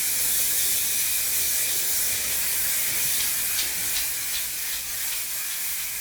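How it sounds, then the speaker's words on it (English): Continuous hiss of aerogel hairspray misted all over curly hair, a steady close spray lasting several seconds with slight pulsing as the can moves, with no talking. "shake it, spray it on all over."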